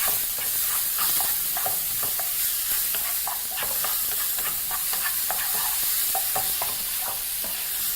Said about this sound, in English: proceed to mix everything together with your spoon